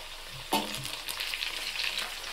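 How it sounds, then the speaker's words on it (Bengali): Chopped tomato goes into a pan of frying onions, setting off a sudden loud sizzle that settles into a steady, hissing fry with light stirring. "এবার আমরা এর মধ্যে টমেটো কুচিটা দিয়ে দেবো।"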